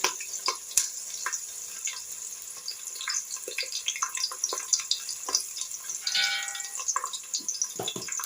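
Onions and green chillies frying in a pan for a village-style fish curry, a soft continuous sizzle broken by scattered crackles and occasional stirring clinks, fairly quiet throughout.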